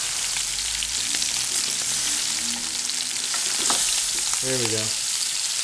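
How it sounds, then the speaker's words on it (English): Beef short ribs sizzle and fry steadily in a hot pan while browning, a constant crackling hiss with occasional stirring clatter and a brief spoken remark. "we are browning both sides of these short ribs"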